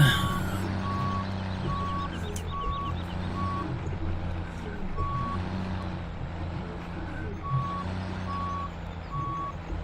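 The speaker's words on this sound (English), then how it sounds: "I got a pretty green truck driving this blue tanker" A green truck pulling a blue fuel tanker reverses in Farming Simulator 17, its evenly spaced backup beeps sounding over a constant diesel engine rumble.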